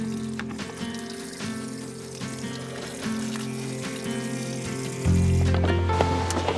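Water pours steadily into a WonderWash portable washing machine during outdoor laundry, with a ringing, resonant fill tone that swells and grows louder toward the end.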